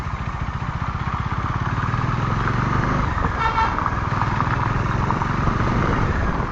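A Bajaj Dominar 400 motorcycle rides through Kolkata traffic with a loud, close, steady engine thrum and exhaust pulse throughout, a brief horn toot sounding partway through.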